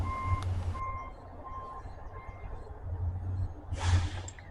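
A vehicle's reversing alarm beeps in a steady repeated rhythm at a distance, over low engine rumble, ending with a burst of hissing air.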